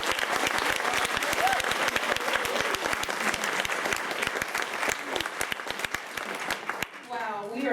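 An audience at a Kansas City breakfast event applauds with dense, sustained clapping that fades near the end as a voice begins to speak.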